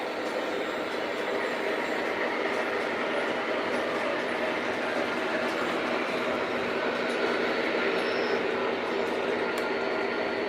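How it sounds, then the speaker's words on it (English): An MTH T1 O scale model train runs on a layout, giving a steady, continuous rumble with light rhythmic clicking of wheels over track joints, moderately close, with no speech. "my T1 is it's an MTH T1. Is that the one you're talking about? The one that's running on the layout here?"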